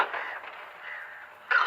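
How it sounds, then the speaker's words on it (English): Crows caw in a short run of harsh calls, a steady stretch followed by a louder burst at the end, heard alone without talk. "Oh, that sounds like birds, alright"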